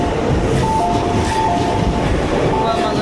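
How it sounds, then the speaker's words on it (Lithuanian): A metro train pulls into a station in Japan with a loud, continuous rumble of wheels on rails and faint high-pitched squeals, a steady roar filling the platform. "Va, mano metro."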